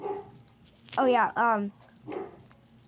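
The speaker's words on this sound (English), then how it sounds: "That's our dog." A pet dog barks in a short burst of two strained, whiny yelps at close range, with people talking casually before and after.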